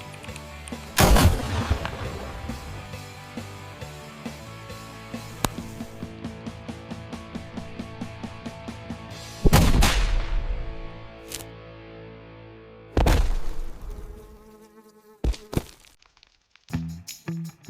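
A bullet shot in a slow-motion high-speed camera replay comes as a few loud, sharp cracks spaced seconds apart, each with a long decaying tail, and faint ticking and tones between them.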